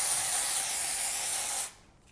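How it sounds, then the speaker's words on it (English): Dry shampoo sprayed from an aerosol can onto hair, one steady, loud hiss held for well over a second, then cutting off abruptly. "spray from out there"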